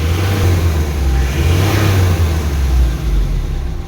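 Close, loud Mitsubishi 4P10 engine revving continuously for several seconds, the roar swelling and easing slightly, with no talking; its RPM gauge has stopped working.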